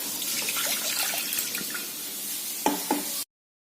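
Water pours steadily into a pressure cooker holding beef, a close, even splashing hiss lasting about three seconds before stopping abruptly.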